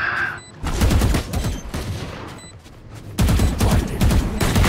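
Shotgun fire in a ranked video game match: loud, close blasts in rapid clusters, with a dense burst of shots at the start and another volley near the end.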